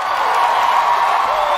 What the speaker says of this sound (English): So these niggas just gonna applaud for anything you say?